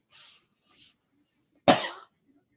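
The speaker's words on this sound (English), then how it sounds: "Y'all excuse me for coughing." A single sharp cough up close after a couple of faint breaths, loud and abrupt, with a brief rough tail.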